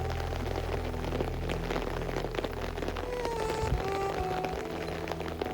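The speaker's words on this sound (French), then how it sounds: "vous voyez non seulement la pluie, et la chapelle qui est ouverte tous les jours" Steady patter of rain falling outside an open chapel in Brittany, a constant close hiss with faint tones and scattered drips.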